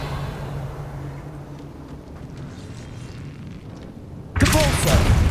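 A Revelio spell is cast in Hogwarts Legacy with a sudden bright, booming magical burst near the end, rising over steady game ambience and mixed with a voice.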